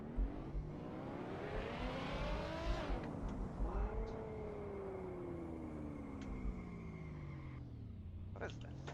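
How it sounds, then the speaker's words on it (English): A video game car engine drones steadily and rises in pitch as it accelerates, then falls and climbs again. A voice talks over it now and then. "You just jumped in the"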